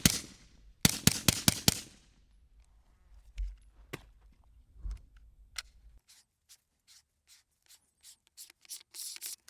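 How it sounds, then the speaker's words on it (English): Pistol firing subsonic 9mm through a Griffin Rev 9 suppressor, a quick string of muffled shots near the start, then fainter scattered clicks and mechanical clatter trailing off. "Here's a sound test. This is what it sounds like with subsonic 9mm."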